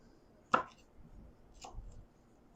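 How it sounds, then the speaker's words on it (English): A knife chops red jalapeno peppers in half on a board: two quiet, separate cuts, the first sharper and clearer, in a quiet room. "We're just going to keep chopping these peppers in half"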